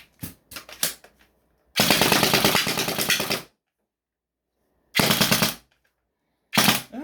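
3D printed Nerf AEB blaster called the Pariah firing darts in rapid bursts: a few quick single clicks, then a long loud full-auto stream of about two seconds, followed by two shorter loud bursts, close and dry.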